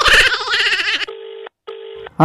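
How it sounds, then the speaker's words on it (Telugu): A phone call rings back through the handset in two even electronic tone bursts separated by a short silence, heard right after a brief snatch of loud voices. "ఫోన్ చేసి అడుగు ఏడుండో"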